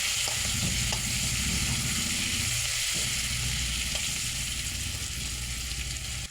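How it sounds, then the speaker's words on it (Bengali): Chopped onion sizzles steadily in hot oil in a pan, where prawns have just been fried for a prawn and taro-stolon curry, forming a dense continuous crackle close by with a few soft stirring knocks. "পেঁয়াজটা একটু ভেজে দেবো।"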